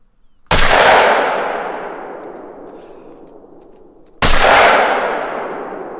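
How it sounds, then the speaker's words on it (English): Two sharp rifle shots crack out in theHunter: Call of the Wild hunting game, each a loud, close blast followed by a long, slowly fading echo rolling across open terrain, spaced about four seconds apart. "Might have to put a follow-up shot on this guy."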